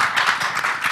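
Audience applause after a comment at a panel discussion, close, continuous clapping from many hands with a lively, uneven patter and no talk over it.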